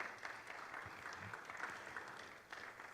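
Audience applause in a banquet room at a Rotary leadership talk, a soft, steady patter of clapping heard from a distance at low volume, lasting a few seconds.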